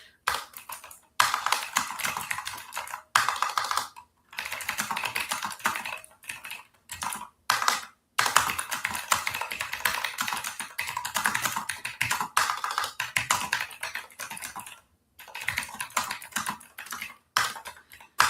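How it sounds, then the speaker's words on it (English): Quick, uneven bursts of clicking keystrokes on a computer keyboard, typing out an email up close, with short pauses between runs of keys. "I just have to finish typing it."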